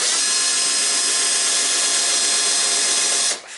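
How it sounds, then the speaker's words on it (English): Power drill with a countersink bit boring into soft basswood, a steady loud whirring whine held for a few seconds before the motor winds down at the end, close and alone. "So I'm just going to use a countersink bit."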